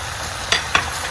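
Beef frying in a pot with chopped onions and blended spice keeps up a steady close sizzle, broken by two quick scraping stirs.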